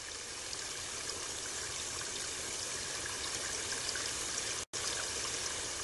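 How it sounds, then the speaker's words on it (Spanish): The Versailles palace fountains pour and splash in a steady, even rush of water, moderately loud and unbroken, with a brief drop near the end and no voices. "Espectáculo mágico de agua"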